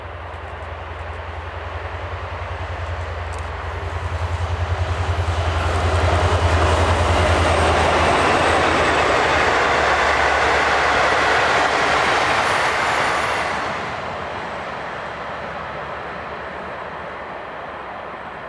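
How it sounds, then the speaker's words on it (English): V-Line locomotive N451 hauls the Spirit of Yarrawonga heritage train past Kilmore East on the main line, a broad rumbling roar that swells as it nears, peaks, then fades away, with no talk. "V-line's own N451 leading the Spirit of Yarrawonga through Kilmore East"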